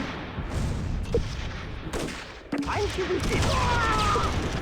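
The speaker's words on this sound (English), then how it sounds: "they're actually calling in mortars on our location from across the way here" Mortar fire in the video game Close Combat III: scattered muffled booms and blasts thump against steady battle noise, with one sharper impact midway and rising clatter toward the end.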